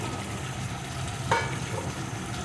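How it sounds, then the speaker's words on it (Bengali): Chicken pieces frying with spices in a pan for a chicken curry give a steady, moderate sizzle with a brief stirring scrape partway through. "চিকেনটা মশলার সাথে কিছুক্ষণ কষিয়ে নিয়ে এর ভিতরে আমি দিয়ে দেবো কয়েক টুকরো আলু"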